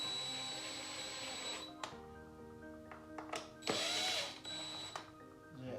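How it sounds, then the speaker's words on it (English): Power driver sending screws into a rotating sports man-cave sign during reassembly, a steady whine broken by brief higher-pitched bursts and clicks, recorded up close at fairly low level. "I'm now gonna screw that back together on the back end."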